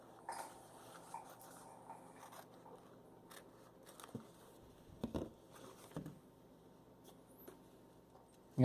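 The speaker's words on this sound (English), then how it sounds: "Next I will separate the marked area of the sheet by cutting it with scissors." Scissors cutting a clear plastic lamination sheet, faint close-up snips and crinkly plastic rustles in sparse bursts against quiet background.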